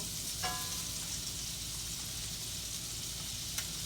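Butter sizzling and frying in a pan while Cajun spicy crawfish pasta is cooked, a steady soft hiss with a couple of faint utensil clinks; no talking.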